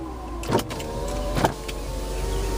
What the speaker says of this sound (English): Let's go ahead and open the windows here.